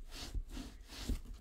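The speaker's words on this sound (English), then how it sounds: "and then give it a good rub down" Glued paper and cardboard being rubbed down firmly by hand: two close, steady back-and-forth rubbing strokes with a dry, papery friction, no talking.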